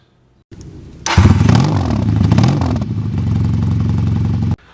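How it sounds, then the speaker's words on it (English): A motorcycle engine starts and revs hard, roaring loudly up close, then settles into a steady rumbling idle before cutting off. "this is the motorcycle you keep on seeing"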